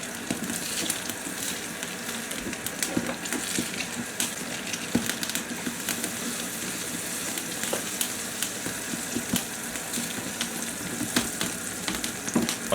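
Water crackles and sizzles in a camp cooking pot over a wood fire, nearly at the boil, with a dense, steady bubbling hiss close by and no voices.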